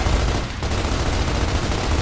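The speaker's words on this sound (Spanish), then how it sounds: "aquí están pegando tiros" Gunfire in the video game Gears of War, a loud continuous rattle of shots with heavy low rumble, one brief dip midway before the firing carries on.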